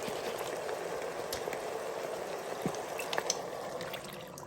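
Water and pasta sauce pour steadily over ziti in an Instant Pot, a continuous splashing, gurgling flow that runs close and fairly loud from start to finish, with a few brief louder splashes near the end.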